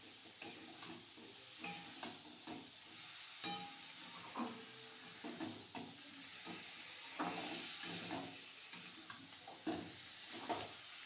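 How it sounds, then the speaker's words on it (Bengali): Fish pieces sautéed and stirred in a hot pan of spices for a Bengali fish curry, with a steady sizzle under repeated scraping and stirring strokes, close and fairly quiet, with no voices. "এবার মাছগুলো দিয়ে আর একটু ভালো মতন কষাবো আমি"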